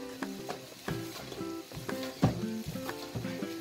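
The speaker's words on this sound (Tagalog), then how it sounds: "hahaluin muna natin para madurog yung food color na nailagay" A spoon stirs a bread pudding mixture with food color, giving repeated close clinks and scrapes in an uneven rhythm over a faint sizzle, with no speech.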